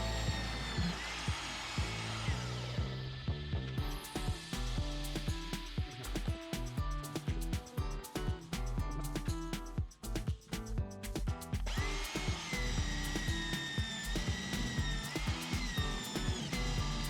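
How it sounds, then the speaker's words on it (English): A power drill bores holes in small iron plates for a laser engraver chamber build, whining loudly and steadily close by for the whole stretch, its pitch shifting as the bit bites, with a brief dip midway. "Now let's start drilling them holes."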